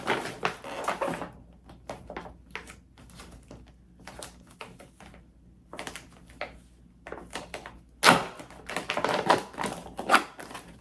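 Tearing and crinkling of a heavy plastic US MRE ration bag, Menu 16 Chicken Burrito Bowl, in sharp close bursts of rips and rustles separated by quiet pauses, with a louder flurry of handling near the end.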